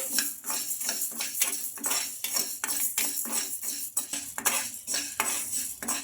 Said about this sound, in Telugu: ఇప్పుడు అదే కడాయిలో పావు కప్పు పెసలు అయితే తీసుకోవాలండి ఈ పెసలు కూడా ఒక నిమిషం పాటు ఫ్రై చేసుకోవాలి